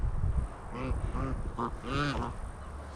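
Several geese call close by, a handful of nasal honks and quacks in quick succession over a low rumbling background.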